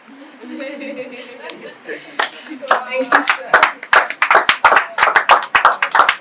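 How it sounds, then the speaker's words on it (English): Audience applause at a church business summit and birthday celebration builds from scattered claps into a steady burst of many hands, with murmuring voices and a little laughter before and beneath it. "Please, another round of applause."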